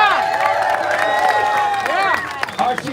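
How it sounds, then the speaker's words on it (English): Crowd at an Ottawa motorcycle and trucker protest rally applauding and cheering near the microphone, with whoops and shouting voices throughout, steady and loud. "A round of applause too."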